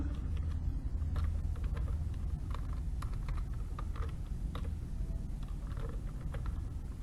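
Someone types a column heading into a Microsoft Excel spreadsheet on a computer keyboard, producing scattered, irregular keystroke clicks at close range over a constant low background hum, with no speech.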